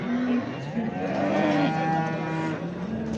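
Cattle at a large livestock market in Çorum moo in several long, drawn-out calls, one near and loud, others overlapping, over a murmur of market background noise.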